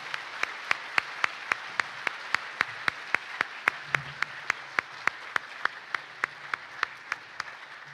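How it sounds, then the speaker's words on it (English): Clapping at a Veterans Day ceremony honoring students comes as evenly spaced, crisp single claps in a steady beat, about four per second, over a quiet background hum. "So if we could give them a round of applause right now"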